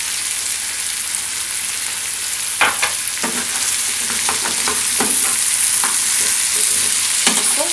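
Potatoes and meat are stirred in a frying pan, making a loud continuous sizzle close up, with a series of scraping, knocking strokes of the spoon through the second half and no voices.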